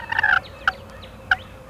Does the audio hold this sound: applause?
no